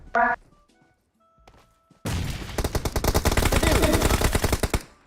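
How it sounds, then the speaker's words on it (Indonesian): Rapid automatic gunfire in PUBG after a brief electronic chirp and a few faint clicks, a loud sustained burst of closely spaced shots running for about three seconds. "Gue ditembakin dari jauh."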